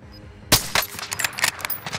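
Video game gunfire from an enemy shooting from the east, with a burst of sharp automatic shots that starts suddenly and keeps firing in quick, uneven cracks.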